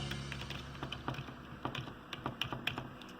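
Keys clack on a Riitek RK100 gaming keyboard in a quick irregular run of close, crisp taps with brief pauses, no voices.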